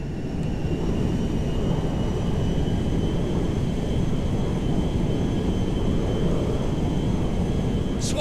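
Steady low jet engine roar of a cargo airplane cruising in GTA 5, a dense continuous rumble with faint high whine, unbroken and evenly loud throughout.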